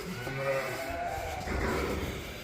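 A lamb, one of a pair of twins, bleats loudly and close by on a farm in two drawn-out wavering calls, with a wind-like hiss behind and no talking.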